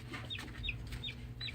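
A live chicken clucks in short, repeated, fairly quiet calls, four or five bursts in quick succession over a low steady background hum.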